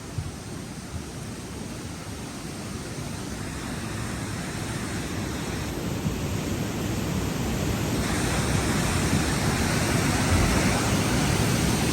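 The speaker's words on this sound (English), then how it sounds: "at the power of this water as it rages" Torrential floodwater rages through flooded streets in Highland Falls, a loud, continuous broadband rush and roar that swells slightly and holds steady for the whole stretch, with no voices.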